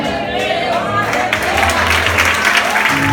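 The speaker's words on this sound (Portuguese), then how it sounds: "Palmas bem fortes para Jesus." A church congregation claps loudly alongside music and voices, the applause swelling into a dense, sustained roar over sung or spoken tones.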